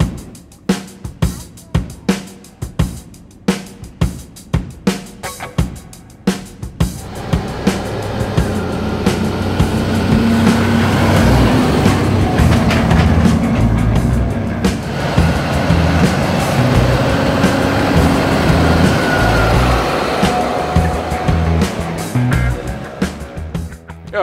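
A Deutz Agrotron 6160 tractor pulling a grain trailer loaded with wheat accelerates, moving from rhythmic knocking into a loud, sustained engine roar that holds strongly for the rest of the clip.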